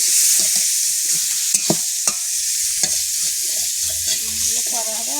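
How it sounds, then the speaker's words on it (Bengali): Ginger, tomato, salt and turmeric fry in a pan with a bright, constant sizzle, broken by several sharp scraping clicks as a spoon stirs them. "আদা টমেটো তো একটু লবণ হলুদটা ভেজে নেবো"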